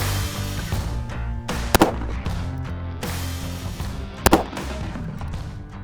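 Pistol shots fired during a test of a Raging Hunter prism optic, two sharp loud reports a few seconds apart over a steady low outdoor background. No one speaks.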